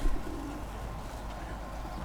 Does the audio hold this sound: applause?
no